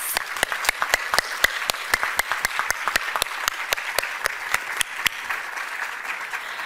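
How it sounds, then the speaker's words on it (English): A room full of people at an awards ceremony applauds the winners steadily, a brisk patter of many hands clapping at an even level before thinning slightly toward the end. "let's give our winners yet another thunderous round of applause."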